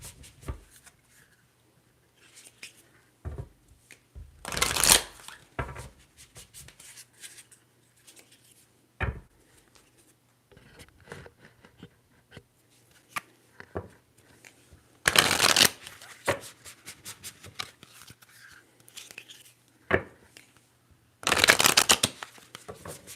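A Moonology tarot card deck is shuffled close up in several quick riffling bursts, each a crisp papery flutter lasting about a second, separated by quieter handling taps and rustles.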